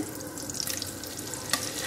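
A chicken cutlet fries in melted butter in a pan, giving a soft, steady sizzle with a sharper pop near the end.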